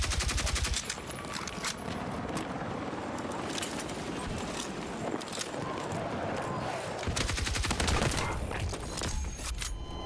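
LMG fire in the video game Battlefield 6 comes in dense bursts of rapid shots over a busy battlefield mix, loud and sustained with brief gaps between volleys.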